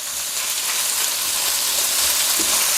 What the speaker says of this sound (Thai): พอกระเทียมมีกลิ่นหอมขึ้นมาแล้วเนี่ย ใส่หมูสับลงไปได้เลยครับ